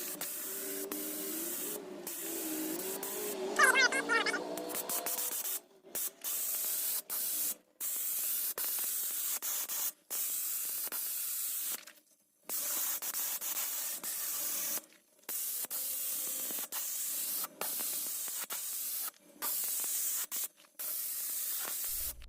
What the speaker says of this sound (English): This is an automotive sprayer that Vevor sent me, but I'm trying it with PVA primer